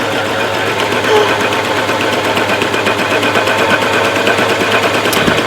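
A sewing machine stitching fabric close up, a loud, continuous rapid mechanical rattle with an even stitching rhythm that holds steady throughout.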